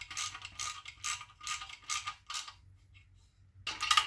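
Ratchet tightening the oil pump bolts on a Quad 4 E12 engine, clicking in quick repeated bursts with brief pauses, ending in a sharper burst, up close and alone.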